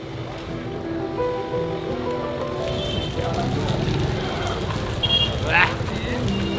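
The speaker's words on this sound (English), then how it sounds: "That one is gonna be the rain" Rain falls in Jaipur, India, as a steady, fairly loud hiss and patter that grows slightly denser, with a faint bird call or squeak near the end.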